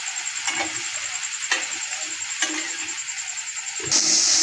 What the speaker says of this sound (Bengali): মশলাটা খুব সুন্দর ভাজা হচ্ছে।